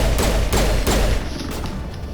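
Pistol fire in the Mass Effect video game: three or four sharp, loud shots at roughly half-second intervals, each with a booming low tail, followed by quieter ambient combat noise.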